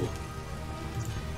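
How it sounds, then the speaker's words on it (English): Rain falls in the video game Space Engineers, a dense, steady hiss of drops on surfaces that fills the whole stretch without a break. "Pretty rain."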